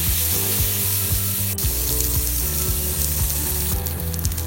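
Steady sizzling of chopped shallots frying in hot oil, continuous and close, with faint scraping taps from a utensil stirring now and then.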